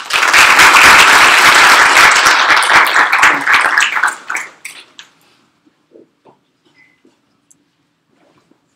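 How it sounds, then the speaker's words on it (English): A crowd at a university student senate meeting applauds loudly and steadily for about four seconds, then the clapping fades out, leaving a few scattered claps and quiet room noise. "So give them a round of applause."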